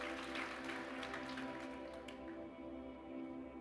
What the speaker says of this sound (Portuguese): Então aplauda e finge que está incendiário esse culto.